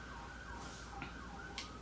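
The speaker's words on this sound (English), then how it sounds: "sirens in the background" Emergency siren wailing outdoors in the distance, its rising and falling tone faint and continuous behind indoor room noise, with no talking.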